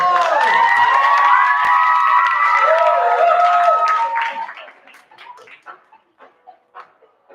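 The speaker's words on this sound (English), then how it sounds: "let's give them a round of applause" An audience at a noontime show with a guest band claps and cheers loudly for several seconds with whoops and shouts, then the applause thins out into a few scattered claps and calls.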